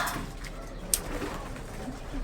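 Racing pigeons cooing in a loft before being taken to the club for a 600 km race, soft low coos running steadily under faint background noise with a brief sharp click near the middle.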